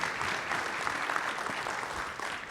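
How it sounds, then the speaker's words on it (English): A conference symposium audience applauds a board diversity panelist with steady, dense clapping throughout, a continuous wash of many hands at even loudness. "Please give a round of applause for Jorge Plasencia."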